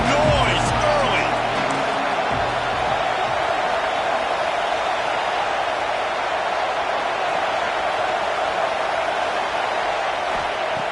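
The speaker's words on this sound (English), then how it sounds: "This crowd bringing the energy and noise early." Stadium crowd noise in an NCAA football video game, a dense, steady roar of cheering fans filling the whole stretch, loud and continuous with a few brief sharper sounds near the start.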